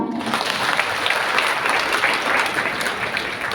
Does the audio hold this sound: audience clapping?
yes